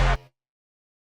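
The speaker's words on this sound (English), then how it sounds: "Next layer I'll show you is this little brass stab." A single short brass stab sample hits hard and bright with a full chord, cuts off after a fraction of a second, and leaves a quiet low tail that fades into silence.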